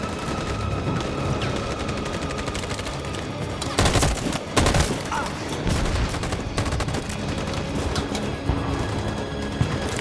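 Sustained covering gunfire in the video game Detroit: Become Human, dense continuous rattling shots with a few heavier bursts near the middle, loud and unbroken.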